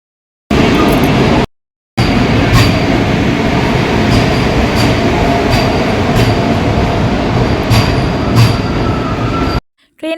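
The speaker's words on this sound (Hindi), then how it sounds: "ट्रेन में बैठ गए थे, ट्रेन चल दी थी।" A passenger train in India rolling along the rails, a loud, close, continuous rumble with faint rhythmic wheel clacks, cut by two brief silent gaps.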